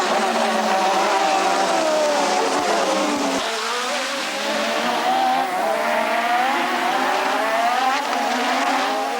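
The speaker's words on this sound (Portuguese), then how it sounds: "Começa a atacar e ultrapassa Boutsen." Formula One race cars roar through the streets of Detroit, with high-revving engines whining and shifting pitch loudly and continuously as several cars pass close by, with no speech over them.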